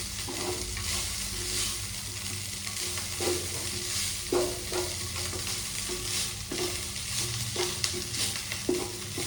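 Fresh coriander cooks in a pan with a constant gentle sizzle, punctuated by repeated clinking stirs of a spoon against the metal at irregular intervals, close and unaccompanied by speech.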